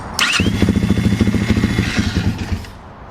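A KOVI Lite 300 R motorcycle engine cranks, catches and settles into a loud, close, rapid thumping idle for several seconds before fading out.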